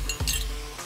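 A spoon clinking against a pot while stirring beef chilli with smoked paprika, giving a couple of short, close metallic chinks with nothing else heard.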